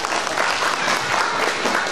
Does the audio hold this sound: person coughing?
no